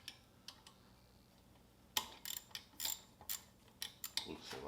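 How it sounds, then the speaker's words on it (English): A short ratchet loosens the connecting rod bolts on an old Briggs and Stratton Quantum engine, giving a quick run of sharp clicking pawl ticks after a few scattered clicks, close and fairly faint. "take your short ratchet, go like that, and now you have extra leverage to loosen bolts"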